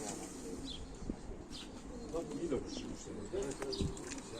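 Pigeons at a live pigeon auction, soft cooing and throaty calls repeated through the room, close by, with people talking over them and occasional brief wing or chirp sounds.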